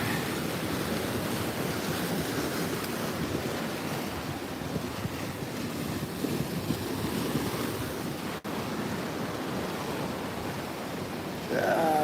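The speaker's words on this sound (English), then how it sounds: "you can see the waves breaking on the outside of the island and then just on the side of the headland here" Ocean surf breaking on the shore and around a headland at Fingal, Australia, a continuous loud wash of waves mixed with wind noise on the microphone, with no talk.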